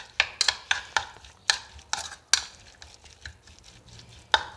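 A utensil stirs an egg omelette mixture with crushed red chili and black pepper in a bowl, making a series of sharp clinking taps and scraping strokes, close and fairly loud, with no talking.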